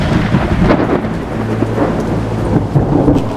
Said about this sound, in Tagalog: Nagkaroon ng malalakas na kulog at kidlat.